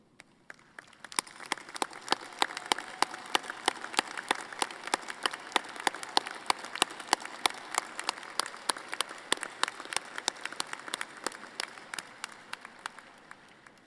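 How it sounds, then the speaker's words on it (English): Graduates at a spring convocation ceremony for a college of agriculture and life sciences applaud their families and friends, a steady, moderately distant clapping that builds and then holds, with no talk over it. "have your graduates applaud to thank you"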